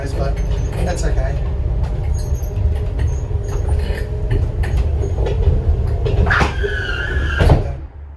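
A motorised observatory roof rolls on its wheels with a continuous loud rumble and rattle, rising into a brief squeal and knock as it comes to a stop. Someone talks over the noise.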